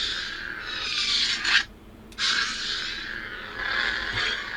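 An Ezra Bridger Legacy lightsaber toy from Galaxy's Edge, with its blade fitted, activates with a steady, airy electronic hiss. The hiss cuts out briefly midway, then returns and holds. Nobody speaks.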